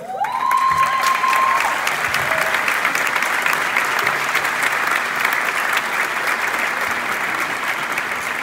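A live concert audience applauds for a singer, loud, dense clapping that swells at the start and holds steady, with a brief vocal cry near the beginning and faint crowd noise beneath.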